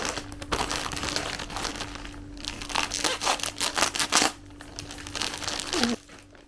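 A plastic vacuum storage bag taken from a package crinkles and crackles as it is handled, in irregular bursts of rustling that stop abruptly near the end.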